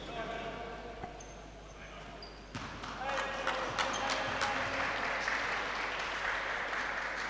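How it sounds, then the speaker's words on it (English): Crowd applause rises at a Super Series basketball game between DCU Saints and Éanna, a broad steady wash of clapping under continuous commentary from a voice talking over it. "that one's worthy of a round of applause."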